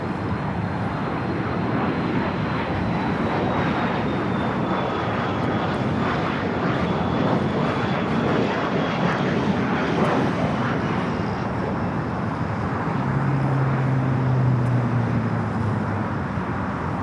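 A Boeing 747 jet taxis at LAX, its engines producing a loud continuous roar and whine that holds steady for the whole stretch, with a faint shifting tone near the end.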